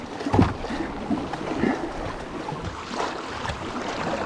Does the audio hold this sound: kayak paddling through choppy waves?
yes